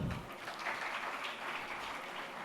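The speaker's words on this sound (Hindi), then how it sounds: "जोरदार तालियां" An audience at an astrology gathering applauds as a minister prepares to honour astrologers on stage. The clapping is a dense, even wash of moderate, slightly distant applause that holds steady throughout.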